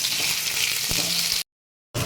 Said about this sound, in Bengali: আলুগুলো দিয়ে দিচ্ছি ওই তেলে আলুগুলো ভেজে তুলে নেবো